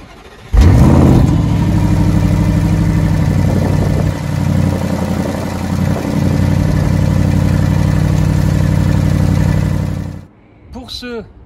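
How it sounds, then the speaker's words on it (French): An Audi RS Q8 engine fires up from a cold start with a loud burst, then settles into a high, steady, rumbling idle close by that runs for several seconds before cutting off, followed by brief talk. "On va vous faire un petit call start, histoire de voir un peu le bruit du moteur"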